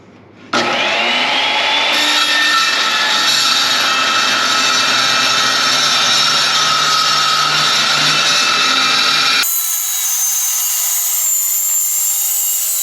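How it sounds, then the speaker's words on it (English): A power saw with a worn blade cuts through steel in a loud, continuous, high-pitched grinding whine that holds steady for several seconds. It then cuts off abruptly and leaves a thin ringing tone. "my personal favorite tool for cutting stuff like this is my skill saw"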